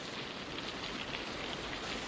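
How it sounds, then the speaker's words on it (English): Heavy rain pouring down in a wartime outdoor setting, a dense, continuous hiss of drops beating on surfaces, steady and loud throughout with no voices. "It's pouring cats and dogs."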